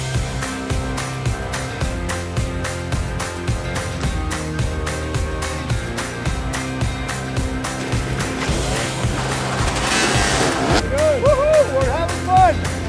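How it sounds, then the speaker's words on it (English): Dirt bikes revving and lugging at a hard enduro scramble in Sugarloaf, Pennsylvania, a rough pulsing engine drone with rising rev bursts near the end, mixed with crowd noise and voices. "You got bikes crashing down, bikes revving, bikes lugging,"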